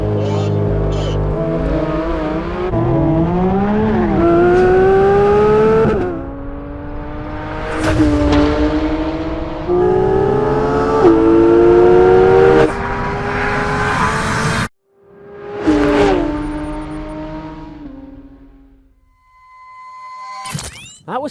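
Porsche 911 GT3 RS and Cayman GT4 RS in a drag race launch, engines screaming up through rising revs with several gear-change drops, loud and close, ending with a fade and a brief revving burst.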